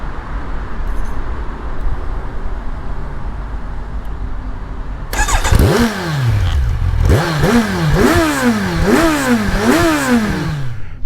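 A 2020-2021 Kawasaki Ninja 1000 SX starts up partway through and pulls away, loud and close, its engine climbing and dropping through several gear changes over steady road and wind noise.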